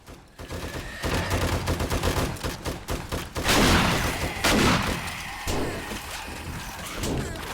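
Automated turrets in 7 Days to Die blast away in rapid bursts, the repeated gunfire rattling loud and close, swelling to a dense peak midway before easing into scattered shots.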